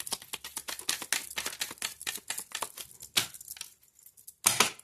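Tarot cards being shuffled, a rapid run of crisp riffling flutters and slaps, briefly pausing before a final burst.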